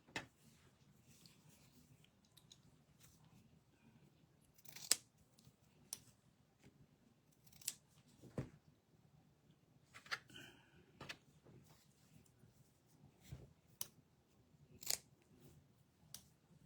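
Scissors cut out fabric patches for a tin can scarecrow, with soft, close, intermittent snips and clicks spaced irregularly against near silence and no talking.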